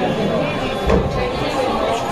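A crowd of people gathered at night, with a steady dense murmur of chatter and a brief louder thump near the middle, sounding close and continuous throughout.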